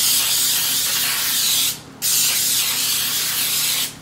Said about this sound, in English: I'm gonna spray my baking sheet.